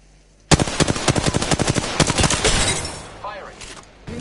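Rapid bursts of automatic gunfire from a first-person shooter on PS4, loud and close, firing in fast repeated rounds for about two and a half seconds before trailing off into quieter game effects.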